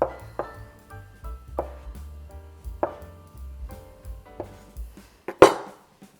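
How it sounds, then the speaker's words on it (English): A knife cuts pretzel dough into bite-sized pieces on a board, making about half a dozen sharp, spaced chops close by, the last one noticeably louder, with nobody talking. "And we're just going to cut them in pieces."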